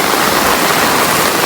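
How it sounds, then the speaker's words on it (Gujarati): Floodwater after a cloudburst pours through Varal village in Sihor taluka, a loud, unbroken roar of rushing water filling the whole clip without pause. "અમારા ઘરના ડેલા ઠેઠ પાણી પડી ગયું."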